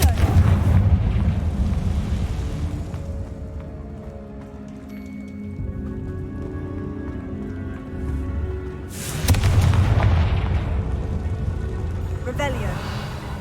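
Confringo blasting spells in Hogwarts Legacy, with two loud rumbling explosive bursts separated by a quieter stretch of ringing and sparkling magical tones, heard alongside a spoken voice.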